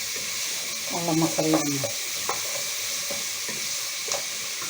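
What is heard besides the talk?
sizzling as ingredients go into pot for lentil soup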